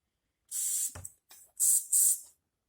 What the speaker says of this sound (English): Spray through all the passages.